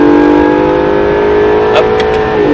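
An Acura NSX engine pulls hard on a track, a loud, steady high-pitched roar that climbs in pitch under throttle, heard from inside the car with brief clicks near the end.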